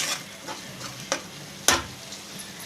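Ginger paste and onion fry in oil for a fish curry, a soft sizzle marked by a few sharp stirring scrapes.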